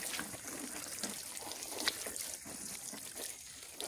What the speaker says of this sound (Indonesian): Jangan lupa disiram ya